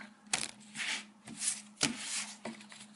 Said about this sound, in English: I'm doing some total shuffles here.